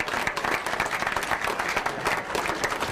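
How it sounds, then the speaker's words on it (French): Spectators at a cycling race podium ceremony in the Haut-Var clap vigorously for the yellow jersey winner, a loud, close, continuous burst of applause from a sizable crowd. "avec le maillot jaune pour Romain Combo, que l'on applaudit une nouvelle fois bien fort"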